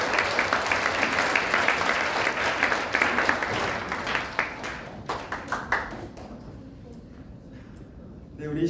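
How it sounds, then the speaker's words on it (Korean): Congregation at a high school church service bursts into vigorous applause, dense and loud for about five seconds, then breaks into scattered claps before dying away into near silence. "힘차게 하나님께 영광의 박수 한번 드리며 끝냅시다"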